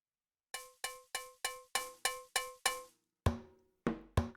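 A cowbell, a non-sustaining percussion instrument that sounds the same pitch whatever note is played. It gives eight quick, evenly spaced dry strikes, then three louder, more spaced hits. The strikes are fairly faint and nearby, with nothing else heard.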